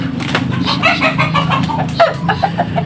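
Chickens clucking and squawking close by, with a rooster-like call rising briefly amid the flock's busy chatter; the birds include tethered fighting roosters.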